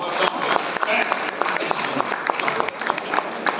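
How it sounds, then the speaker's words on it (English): Applause from a crowd at a cricket stadium during a T10 Champions League event, dense scattered clapping running steadily throughout with a slight dip near the end. "The first one I saw do that is Roscoe, so I think that deserves a big round of applause."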